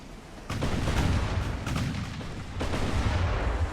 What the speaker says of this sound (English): Well, we are raining the gunfire down on her.